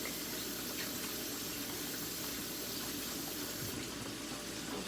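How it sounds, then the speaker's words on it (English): Hands are washed under a running kitchen tap while fish fries nearby, giving a steady, dense rush of water that stays loud and unbroken throughout, with no speech. "So let me wash my hands, guys."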